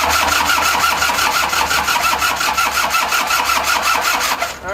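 A rebuilt Toyota 5L diesel engine cranks and catches, running loud and close with a steady rough clatter throughout before cutting off at the end.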